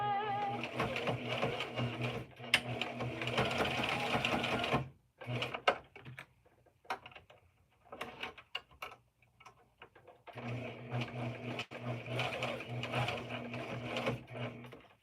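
A sewing machine stitching fabric, a fast steady mechanical whir in two long runs separated by a stretch of scattered clicks and handling sounds, close and fairly quiet.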